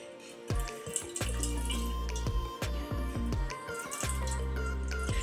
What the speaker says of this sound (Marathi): हे बघा किती येते पाणी हा सगळं पाणी काढून टाकायचं